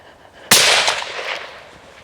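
A single rifle shot cracks out at a deer-stalking practice range, one sharp loud report that rings and decays over about a second and a half outdoors, with quiet before it and no speech.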